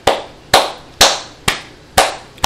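Hands clap six times in a slow, even rhythm, each clap sharp, loud and close, with no voices between them.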